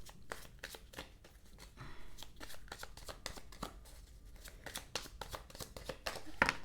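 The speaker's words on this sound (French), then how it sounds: "je vais battre les cartes" Tarot cards being shuffled by hand, heard close and fairly quiet as a rapid series of crisp riffles and soft slaps repeating steadily throughout.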